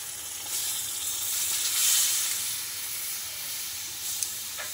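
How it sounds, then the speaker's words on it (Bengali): Hot water goes into a pan of braised goat meat, raising a loud, close hiss and sizzle of steam that swells and then settles over a few seconds, with no talking. "তো দেখো সে গরম জলটাই ঢেলে দিচ্ছি"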